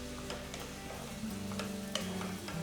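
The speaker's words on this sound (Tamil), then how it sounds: "வெங்காயம் நல்ல பொன்னிறம் ஆற வரைக்கும் வறுக்கணும்." Soft sizzling of onions frying in oil in a pan, with faint scraping and clicks of stirring, quiet and steady.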